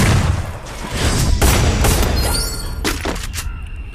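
Gunfire from a headshot in the battle royale video game Free Fire sounds as loud, booming shots with rumbling tails over dense, continuous game noise, several heavy reports within about four seconds.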